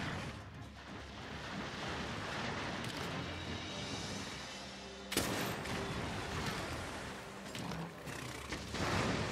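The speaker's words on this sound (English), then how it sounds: "hit him with a direct shot with a cluster bomb" A cluster bomb shot in the Monster Hunter World video game sets off a heavy, crackling barrage of blasts with a continuous rumbling roar, then a sudden louder burst partway through that keeps rolling on.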